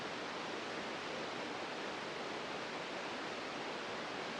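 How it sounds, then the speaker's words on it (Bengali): Jonha waterfall near Ranchi roaring as a steady, dense wash of falling water, loud and continuous throughout with no voices. "এই জলপ্রপাতটি বেশ বড়, অনেকেই এখানে স্নান করে বা করছে"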